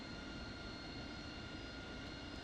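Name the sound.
KC-130 tanker aircraft engine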